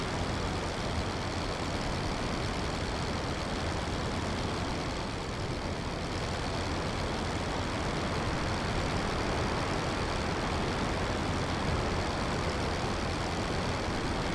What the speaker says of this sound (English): my engine seems to be having a lot more trouble now